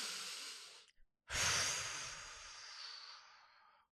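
Slow, deep breaths: a long airy exhale, a brief pause, then a strong inhale fading into a lengthy breath out, close and alone.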